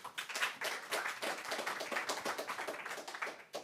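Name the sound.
audience applauding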